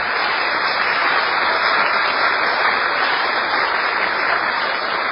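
Steady, dense audience applause holding at an even level throughout, a continuous wash of clapping with no speech over it.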